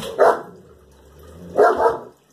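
A dog barks twice, close and loud, in two sharp bursts about a second and a half apart, with a quiet room in between and no one talking.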